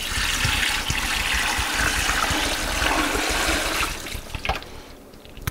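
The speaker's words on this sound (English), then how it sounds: "We're gonna top this with filtered water." Filtered water pours steadily into a pot of bones for bone broth, a loud rushing splash that thins out toward the end into a few trickles and drips.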